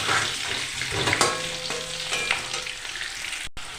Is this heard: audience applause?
no